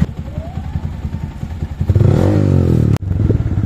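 A motorcycle engine in Dimapur idles with a steady low throb, then revs up loudly for about a second before a sharp thump cuts it off briefly and the engine runs on.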